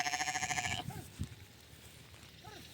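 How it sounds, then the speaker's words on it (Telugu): Sheep grazing on a farm bleat, with a loud, wavering call up close followed by quieter, shorter bleats from others nearby. "మా గొర్రెలు అయితే ఇలా ఉన్నాయి."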